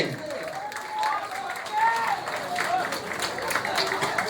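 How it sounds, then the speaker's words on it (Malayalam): Crowd clapping and applauding at a friendly tug-of-war match in Puthuchira, Kottiyam, a steady wash of applause from a distance under a loud commentator's voice. "കൈയടിച്ച് തന്നെ സ്വീകരിക്കും."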